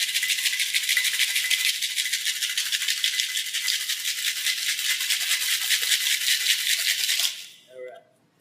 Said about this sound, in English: We're going to give this a really nice shake, vigorous.